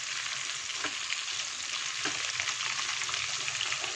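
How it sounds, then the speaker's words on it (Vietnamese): Fish cakes set on lolot leaves fry in a pan with a steady, close, crackling sizzle, broken by a couple of faint clicks. "Đó, mình chiên như thế này."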